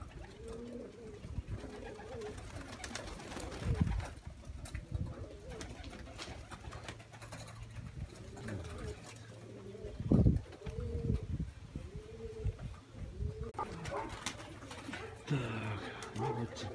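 Pigeons coo in soft, repeated throaty phrases, fairly close and quiet, with faint background noise and a few louder calls scattered through the stretch.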